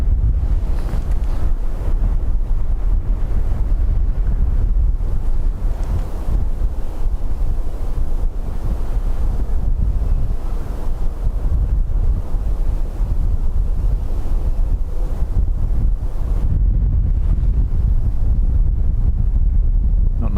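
Strong wind buffets the microphone at Dublin Airport, a loud, constant low rumble and roar that continues without letup.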